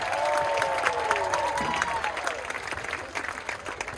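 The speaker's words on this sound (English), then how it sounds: "Give Erickson a round of applause." Applause from an audience at a marching band tailgate, steady clapping with some cheering and a brief whistle-like tone, tapering slightly toward the end.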